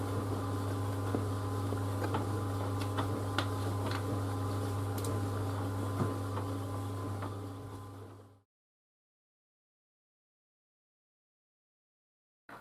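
A White Knight C38AW compact 3.5 kg tumble dryer runs in reverse with a steady low motor hum and faint tumbling rattles. It cuts out abruptly after about eight seconds, and silence follows until a faint click at the end.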